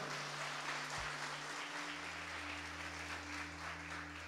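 Faint, distant applause from a church congregation fills the room as a steady, soft clatter, with a low electrical hum running underneath.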